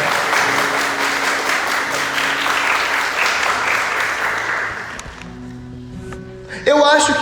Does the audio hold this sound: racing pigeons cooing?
no